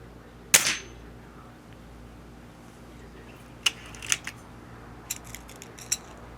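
An RWS Diana 34 air rifle fires once with a single sharp, close crack, followed after a pause by scattered light metallic clicks and clatters of handling in a quiet room.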